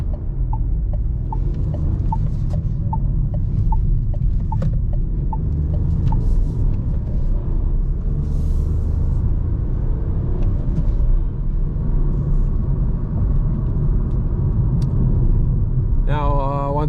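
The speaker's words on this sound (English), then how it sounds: "you can also hear the road noise" A Renault Clio 2024 with a 1.0 TCe 90 HP engine drives at night, and a low, constant road rumble fills the cabin. A regular ticking runs through the first few seconds, and a short voice sounds at the end.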